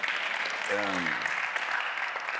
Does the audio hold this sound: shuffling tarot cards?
no